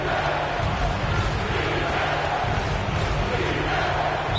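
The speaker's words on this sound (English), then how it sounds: "And you hear this crowd." A dense basketball arena crowd in a video game roars and cheers continuously at high volume, a broad wash of voices with no single speaker standing out.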